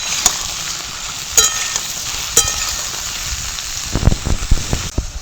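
Ridge gourd (jhinga) pieces fry in a pan as the first step of a jhinga jol bora recipe, giving a steady sizzling hiss. A few sharp clicks and louder stirring scrapes come toward the end, with no talking.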